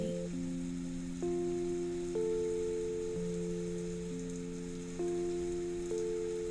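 Steady rain falls with a soft, even hiss, and sustained calm musical tones that shift slowly sit on top of it throughout.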